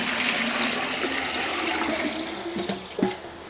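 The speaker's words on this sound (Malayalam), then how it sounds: "അപ്പോൾ നമ്മളൊരു കലം വെച്ചിട്ട് കുറച്ച് വെള്ളം അങ്ങോട്ട് ഒഴിച്ച് കൊടുക്കാം" Water pouring steadily into a cooking pot for rice in a home kitchen, a close continuous gushing rush that thins and splashes unevenly near the end, with no voices.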